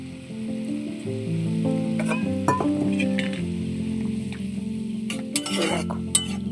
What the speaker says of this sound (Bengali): এবার আমি এই লটিয়া মাছগুলো দিয়ে দিচ্ছি।